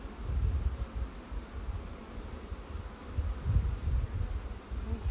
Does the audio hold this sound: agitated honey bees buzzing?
yes